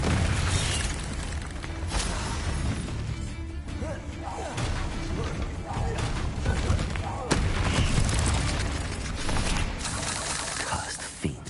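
Confringo fire spells blast in a video game, producing a loud, dense barrage of booming explosions and crashing impacts with a sharp burst near the middle. The blasts run almost continuously throughout.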